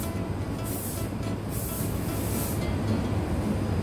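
Cooking oil is sprayed from a can into a baking tin for a sponge cake, three short hissing bursts over a steady room background, with no voices.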